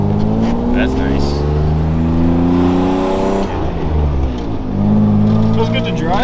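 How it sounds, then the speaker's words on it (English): A BMW E36 drift car drives from inside the cabin, its engine loud and droning as it revs through rising pitch, dips briefly as it shifts, then climbs again. "Drift car stuff. Let's go for a drive."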